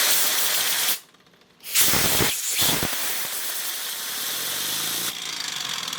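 Small homemade steam engine running dry with no oil, a loud steady hiss of steam that drops out briefly, bursts back in spurts, then runs on continuously close by.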